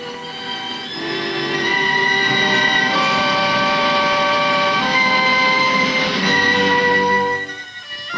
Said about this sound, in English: Railways specially laid from the pits carry away the limestone to be made into cement